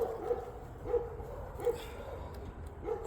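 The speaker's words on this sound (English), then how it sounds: "now the dogs are barking, guys. Because the neighbor's dog is barking." Several neighbor's dogs bark at a distance in a country setting, a few muffled barks recurring roughly every second over a low steady background hum.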